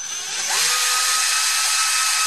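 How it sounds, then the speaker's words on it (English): A power drill bores into a metal exhaust heat shield, its motor rising quickly to a loud, steady, high whine held close-up for about two seconds, with no talk. "the first thing I'm going to do is drill a couple of holes here in the heat shield around the original hole"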